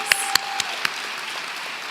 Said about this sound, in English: Can we get another round of applause for these guys,